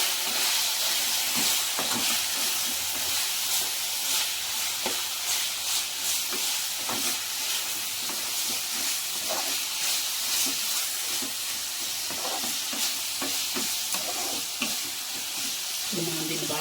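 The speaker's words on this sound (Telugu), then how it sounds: "బాగా వేగనిద్దాము" Chicken liver fries in a pan with salt and spice powder, giving a continuous close sizzle and hiss broken by repeated scraping stirs over about seventeen seconds.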